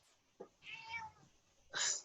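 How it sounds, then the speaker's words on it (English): A cat meows several times, a short chirp followed by a longer drawn-out meow and then a louder cry, heard faintly in a quiet room with no speech. "Somebody's cat is noisy."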